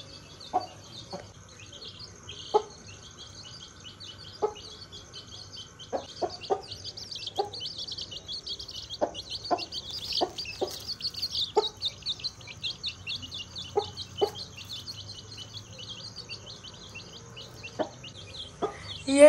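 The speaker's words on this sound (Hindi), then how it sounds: "सारे चूजे इसके ना पंख के नीचे चले जाएंगे" A hen clucks in short, scattered bursts while her chicks keep up a busy, high-pitched chirping close by, the peeping thickening toward the middle against a quiet background.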